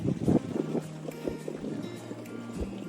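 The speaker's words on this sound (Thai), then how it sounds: "ลมมาแรงมากครับ" Strong gusting wind buffets the microphone at a reservoir during a fishing outing, a dense, rough roar with irregular low thumps and bursts, steady and close throughout.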